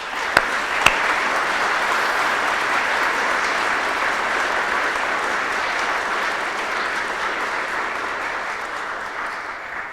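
Audience applause at a King Charles III Coronation Medal ceremony: a broad, even wash of many hands clapping for ten seconds, opening with two sharp close claps before settling into sustained, steady applause that eases off only slightly.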